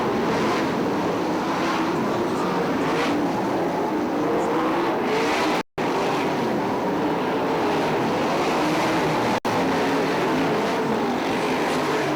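410 sprint cars race at Fremont Speedway, a continuous loud engine roar from the pack on the dirt oval, steady throughout with a brief dropout partway.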